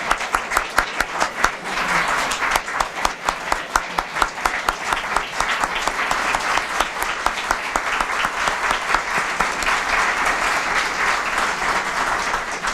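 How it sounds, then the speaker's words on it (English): Loud, sustained applause from an audience honoring Dr. Veazey at a college open house and celebration, many hands clapping close and dense for the whole stretch with no speech. "Let's give Dr. Veazey a round of applause."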